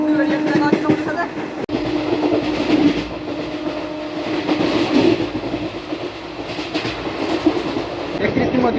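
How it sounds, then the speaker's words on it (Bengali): The Howrah–Chakradharpur Express running at night toward Uluberia station, a loud continuous rumble of wheels on rails with rhythmic clatter, a sharp knock about a third of the way in, and a voice faintly underneath. "এবার আমাদের ট্রেন ঢুকবে উলুবেড়িয়া স্টেশন"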